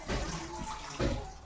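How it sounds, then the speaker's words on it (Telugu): Water poured over cut pumpkin pieces in a pot for a village-style pumpkin curry, a quiet splashing pour in two short surges. "నీళ్ళు గుమ్మడికాయ ముక్కలు ములిగే వరకు నీళ్ళు అయితే పోసుకుంటాను."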